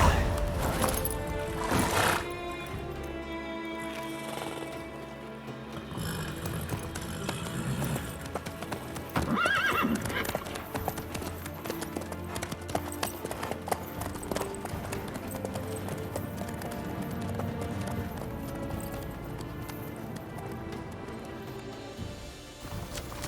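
Horse hooves clip-clop at a run in The Witcher 3, with a brief whinny near the start, mixed under game music and crashing effects throughout.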